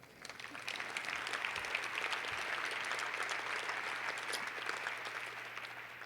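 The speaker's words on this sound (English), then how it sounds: "You can clap for that." An audience at a football coach's retirement press conference gives sustained applause, a dense even wash of clapping that swells and holds for several seconds before easing slightly, heard from a moderate distance.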